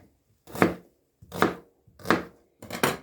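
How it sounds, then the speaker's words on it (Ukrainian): Four firm knife chops slicing an onion into thick rings on a cutting board, evenly spaced about a second apart, crisp and close with silence between strokes. "цибулю потрібно нарізати теж такими немаленькими кільцями, тобто отак"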